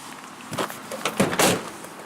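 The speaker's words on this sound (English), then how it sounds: "this has a soft open tailgate" Tailgate of a 2019 Ram 1500 Laramie with a soft-open damper lowering slowly: a few soft mechanical clunks and a rustling glide build to a louder thump-like swell, then fade, with no talking.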